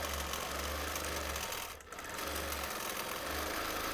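A sewing machine stitches through thick quilt seams on a T-shirt quilt, a loud, steady mechanical whir that runs throughout and drops away briefly near the middle before picking back up.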